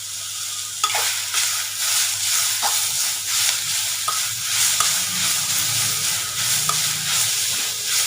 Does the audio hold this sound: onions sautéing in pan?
yes